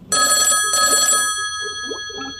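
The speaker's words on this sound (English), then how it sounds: "Oh, blimey, it's a phone call." An indoor telephone bell rings loudly and close, two bright metallic bursts, the second fading into a quiet room.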